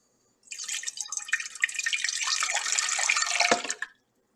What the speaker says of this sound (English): We're going to put filtered water in here.